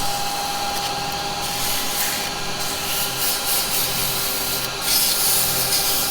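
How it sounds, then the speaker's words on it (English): Sandpaper rubs against a wood-turned piece spinning on a lathe, a steady, close, continuous abrasive hiss with slight swells and no talking, made while turning a small Christmas craft-fair gift. "Now a very quick bit of sanding."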